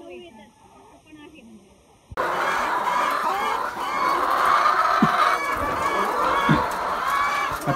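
Layer hens on a hi-tech poultry farm, a brief quiet stretch then a dense, loud chorus of clucking and squawking birds filling the shed, with a couple of sharp knocks.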